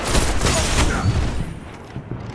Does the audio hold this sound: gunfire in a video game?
yes